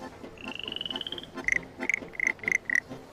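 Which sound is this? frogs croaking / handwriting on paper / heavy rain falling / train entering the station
frogs croaking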